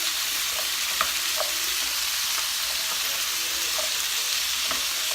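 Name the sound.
sweet potatoes and carrots cooking in pan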